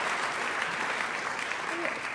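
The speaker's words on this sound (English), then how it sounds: "Let's give the Minister of Health of South Africa a round of applause." An audience applauds a South African Minister of Health at a World AIDS Day event, dense sustained clapping filling the room, steady and fairly loud throughout.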